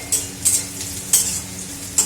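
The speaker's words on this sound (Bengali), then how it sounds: "পেঁয়াজটা একটু ভাজা ভাজা হোক, বেশ ভালো লাগবে।" Onion and lentil dumplings (bori) frying together in a pan, with a steady low sizzle and a few short scraping stirs at regular intervals, close and fairly quiet with no talk.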